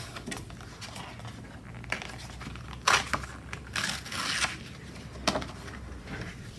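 A piece of card is torn by hand, heard close up as a few sharp ripping and crinkling bursts separated by quiet pauses, with no talking.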